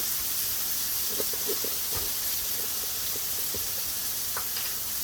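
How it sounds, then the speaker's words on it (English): A burger bun toasts on a hot griddle that heats unevenly, giving a steady loud hiss and sizzle with a few faint scattered ticks and pops, no voices over it. "Got my bun. Try to get him toasted."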